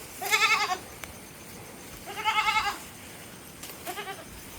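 Three goat bleats, each a wavering, nasal cry lasting about half a second, spaced apart over a quiet outdoor background with no talking.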